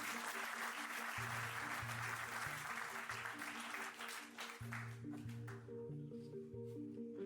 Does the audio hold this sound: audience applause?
yes